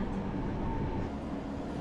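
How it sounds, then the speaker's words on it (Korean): A mountain rack railway train arriving at Gornergrat station above Zermatt in the Swiss Alps, heard as a steady close rumble of cars and wheels on the rails, with no voices. "이윽고 열차는 해발 3089m 고르너브라트 역에 도착합니다."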